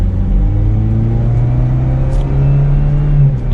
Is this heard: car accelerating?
yes